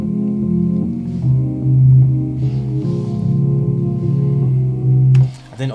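Layered chord melody built from FL Studio stock plugin synths stacked across several octaves, with bright sustained chords changing every second or so in a steady rhythm, close and loud, ending abruptly.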